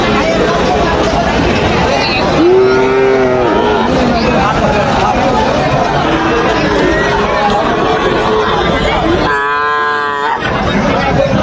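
Cattle and calves at a busy livestock market in Joypurhat, with two loud, drawn-out moos rising over a dense crowd of people talking and haggling all around.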